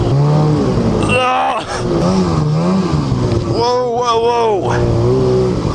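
A 340 Whiplash snowmobile engine revs up and down in close, loud surges with wavering pitch, while a voice briefly exclaims over it.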